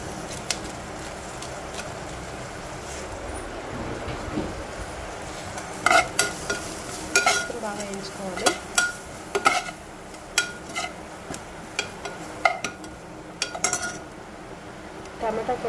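Onions fry in oil with pasta masala while a utensil stirs and scrapes the pan, giving a soft sizzle under a run of sharp, irregular metallic clinks that grow busier toward the end.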